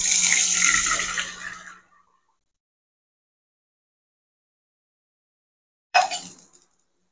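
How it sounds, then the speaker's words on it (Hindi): Water is poured from a cup into a cooking pot while making a sweet rice dish, a short splashing pour that stops, then after a silent pause a second brief splash; no one speaks. "ये मैंने 4 कप पानी डाल दिया है"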